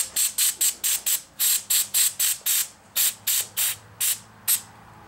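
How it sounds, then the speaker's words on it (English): WD-40 aerosol sprayed into a stripped bolt hole during rethreading, a rapid series of about fifteen short, loud, close hissing bursts in an uneven rhythm, with no talking. "Spray with some WD-40."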